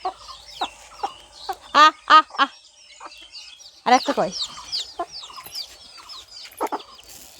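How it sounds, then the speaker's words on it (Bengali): Village chickens cluck and squawk excitedly while being scattered rice grains outdoors, with a string of short close calls and a few louder squawks. A person speaks briefly among them. "এই যে কেমন করছে দেখছো বেচারি মুরগিগুলো।"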